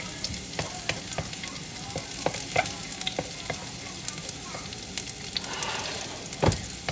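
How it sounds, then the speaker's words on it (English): Garlic stir-frying in a pan for yellow noodles, a steady sizzle with repeated sharp scrapes and clacks of a utensil against the pan throughout. "So we're going to stir fry this till it turns a little bit brown."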